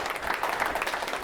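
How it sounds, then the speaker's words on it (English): Gathering of Vietnam veterans clapping, a dense burst of applause from a room full of people, brief and steady, moderately near. "So give yourself a round of applause."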